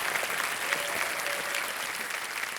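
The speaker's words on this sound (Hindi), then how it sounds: "और एक बार फिर तालियों के साथ उनका स्वागत किया जाए।" Studio audience applause welcomes a contestant to the hot seat on the KBC High Flyers quiz show: dense, steady clapping fills the whole stretch at an even loudness, with no voices over it.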